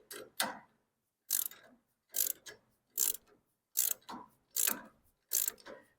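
A torque wrench clicks sharply again and again, about one every three-quarters of a second, as steering arm nuts are torqued to 60 foot-pounds on a Factory Five Type 65 Coupe; close and clear with no talking.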